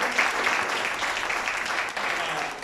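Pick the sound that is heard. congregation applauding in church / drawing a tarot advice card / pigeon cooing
congregation applauding in church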